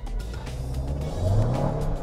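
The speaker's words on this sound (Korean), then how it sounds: "가속 페달을 조금만 깊게 밟으면은 엔진 RPM이 왕 이렇게 갑자기 막 4000까지 치솟으면서 앞바퀴를 막 휠스핀을 내면서 나가게 됩니다" A Hyundai Tucson gasoline engine revs up, its low drone climbing in pitch as the accelerator is pressed and the front wheels spin, heard steadily from inside the car with no speech.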